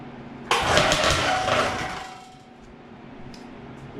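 A 70cc Minarelli two-stroke engine cold starts with a sudden loud catch, revving briefly before settling to a fading, rough idle.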